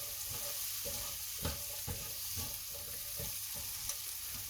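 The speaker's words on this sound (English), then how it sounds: "Fry up your onion or saute it" Butter-fried onion sizzling steadily in a pan, a continuous hiss broken by several brief stirring scrapes and knocks close by.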